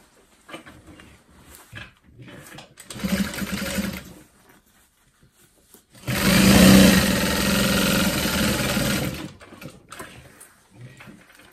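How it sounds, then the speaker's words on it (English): A sewing machine stitches up a crossbody bag pocket in short bursts, a brief run, then a longer steady whirring stretch of several seconds, close and fairly loud with pauses between. "So let's go ahead and sew up that pocket."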